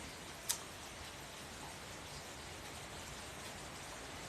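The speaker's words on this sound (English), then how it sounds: "That is the rain. You are hearing the rain." Rain falling at night outside a studio, a faint, even hiss of steady rainfall with one brief sharp click near the start and no voices.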